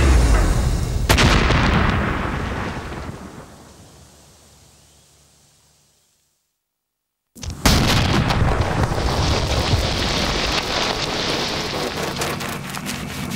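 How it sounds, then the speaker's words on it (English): Rocket-propelled grenade fire from Taliban fighters at a Marine company's farm compound in Afghanistan: a loud blast rolling into a long fading rumble, a few seconds of silence, then another sharp burst of heavy, sustained noise. "The Taliban have opened fire with rocket-propelled grenades."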